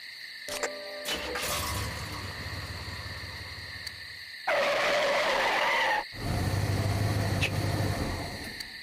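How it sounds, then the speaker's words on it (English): Sustained tire skidding sound effect from the video game Deadly Premonition, played just before a car crash: a long screech after a few sharp clicks, cutting off, then a second bright burst and another screech, loud and alone. "It's like the pre-car crash sound effect."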